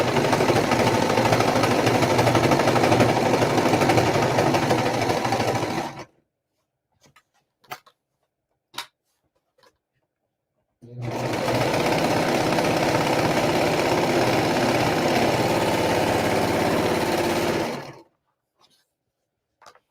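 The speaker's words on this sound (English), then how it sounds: "you are going to serge all 4 sides straight down" A Brother Lock 1634DX serger stitches a throw pillow in two long, steady, loud runs of dense mechanical chatter, separated by a quiet pause with a few faint clicks and taps.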